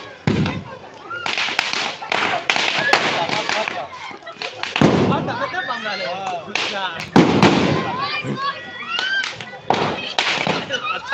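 Fireworks bursting from a burning Ravan effigy at an outdoor Dussehra celebration, a series of loud crackling bangs and pops spread across the clip, mixed with excited shouting and crowd voices.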